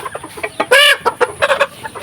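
Chickens in a farm coop, a run of close, loud clucks with one drawn-out squawk near the start, busy and overlapping.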